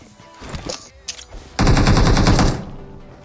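Automatic gunfire in the mobile shooter BGMI rips out as one loud, rapid burst lasting about a second, after quieter game sounds and clicks.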